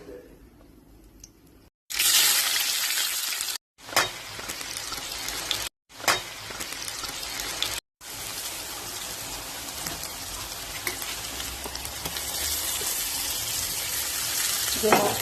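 Ginger garlic paste and turmeric sizzle in a hot pan, a loud hissing fry that starts after a quiet moment and runs steadily, broken by a few brief pauses.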